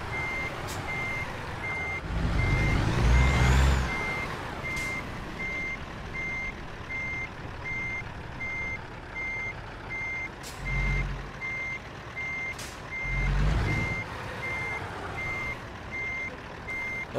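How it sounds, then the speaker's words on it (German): A truck in American Truck Simulator reverses with a steady, evenly spaced electronic reversing beep throughout, under a low engine rumble that swells in several short surges and the hiss of air brakes. "Ja, und jetzt müssen wir erstmal nur rückwärts fahren."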